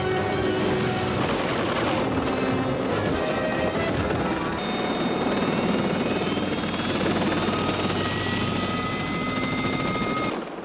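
The Blue Thunder helicopter's rotor thumps and engine whine fill the air continuously, loud and close, with a steady high-pitched turbine tone over the roar.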